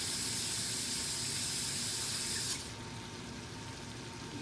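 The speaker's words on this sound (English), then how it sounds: "So let me rinse this off for a second." Tap water running into a sink while something is rinsed during steak cooking, a steady broadband hiss that drops to a softer flow about halfway through.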